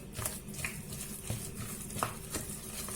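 Egg being stirred fast into hot zucchini makes a soft, low-level scraping and pattering against the pan, with quick rhythmic strokes and a light sizzle underneath.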